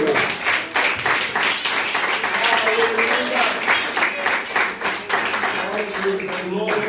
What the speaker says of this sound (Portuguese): Bata palmas para Jesus.